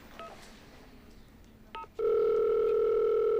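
A telephone on an outgoing call, with a few short dialing tones followed by a loud, steady continuous line tone, heard close with no talking.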